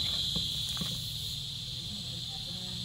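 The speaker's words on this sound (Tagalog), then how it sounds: "tumutunog na yung mga kuliglig doon sa paligid ng bahay" Continuous high-pitched chirring of crickets around a house throughout, with a low rumble and faint background noise beneath.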